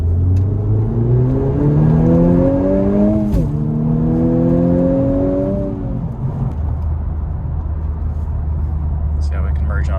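A 10th-generation Honda Civic Type R engine revs up through gears from inside the cabin, rising tones climbing and dropping with a quick rev-matched blip on a downshift, then settling into a steady drone while people talk.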